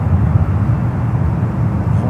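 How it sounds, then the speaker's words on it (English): A heavy jet arriving at San Francisco airport gives a loud, steady low rumble of engines close by, continuous throughout with no breaks. "Checking in will be the next heavy arrival here on the 28s."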